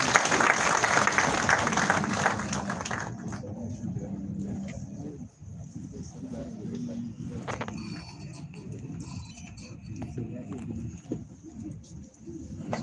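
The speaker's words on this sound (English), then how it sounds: "A round of applause once again, please." Audience at a Nigerian Institute of Public Relations event applauds after a speech: dense, loud clapping for about three seconds, then thinner scattered claps and room murmur that continue faintly to the end.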